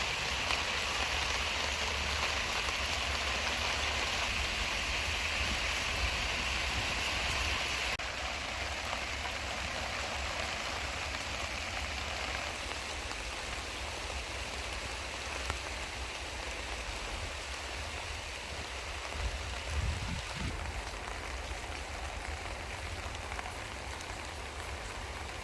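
Rain patters steadily on a Sea To Summit Telos TR2 tent during a storm, a continuous dense hiss with an occasional louder drip or thump and no talking.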